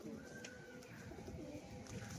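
A fancy performing pigeon coos softly, its low throaty calls faint and close, with no one talking over it.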